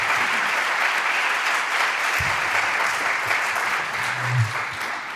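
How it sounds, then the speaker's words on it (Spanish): An audience at a talk claps to welcome the speaker, a loud dense wash of applause that holds steady before easing slightly near the end, with a faint voice briefly underneath. "Un buen aplauso"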